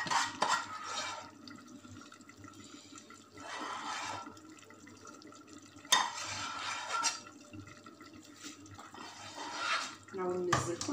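Chocolate bûche batter being mixed in a bowl makes repeated swishing, sloshing strokes in several bursts, with brief clinks of the utensil against the bowl.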